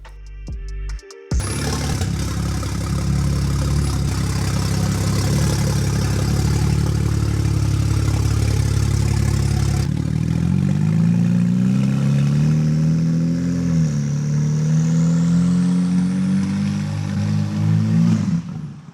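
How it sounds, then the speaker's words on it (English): A BMW 335i wagon runs with no exhaust fitted on its first drive: a loud, raw engine drone with clattering texture, holding steady, then a rising rev climbing in pitch and falling away near the end. "the car ran really well, but as you could tell, it didn't have any exhaust installed"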